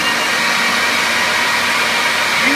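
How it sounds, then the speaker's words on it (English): An air blower set on wet concrete walls and joints to dry them runs as a steady, loud, broadband whoosh with an even tone, unbroken for the whole stretch. "we have a blower, and what we do is we plug the blower in"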